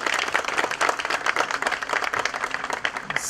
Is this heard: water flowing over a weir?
no